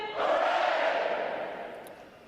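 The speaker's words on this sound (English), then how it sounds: "The adjutant will lead all graduating divisions in 3 cheers for this morning's award recipients." Graduating U.S. Navy boot camp divisions roar a single loud, sustained crowd cheer of "hooray" at an outdoor graduation ceremony, swelling quickly and then fading.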